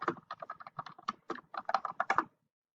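Rapid clicking keystrokes on a computer keyboard, a quick burst of close typing lasting about two seconds before falling silent.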